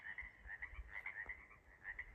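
A chorus of frogs croaks in short repeated bursts, fairly faint and distant, over a low outdoor rumble with no voices.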